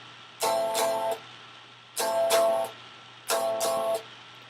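A minor barre chord strummed on guitar three times, each with a quick rhythmic strum pattern ringing briefly before muting, over a faint low hum.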